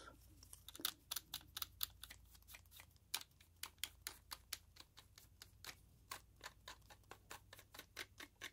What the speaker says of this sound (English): I'll pop the clickety-clackety keyboard down